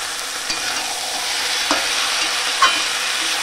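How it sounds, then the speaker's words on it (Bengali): Ground spices (salt, cumin, chilli powder and turmeric) sizzle steadily in oil as they are stir-fried in a pan for a Bengali boal fish and capsicum curry, with a few soft scrapes of the spatula over the continuous frying hiss. "আর একটু ভালো করে কষিয়ে নেব।"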